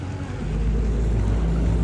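A vallam fishing boat approaches with a deep, rumbling engine drone that swells after a quiet start and then holds strong and close.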